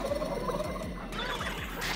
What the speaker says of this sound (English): We got birds.